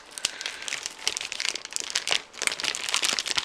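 Tape being torn and packaging ripped open on a boxed Behringer Xenyx 302USB mixing desk, with close, busy crinkling and crackling of plastic and cardboard in irregular bursts, no talking.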